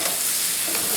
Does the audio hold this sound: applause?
no